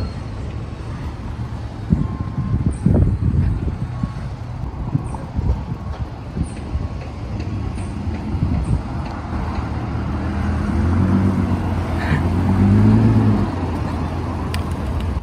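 A lowered Lexus car rolls slowly into a residential driveway, its low engine rumble and tire noise close by and swelling near the end, with brief voices in the background.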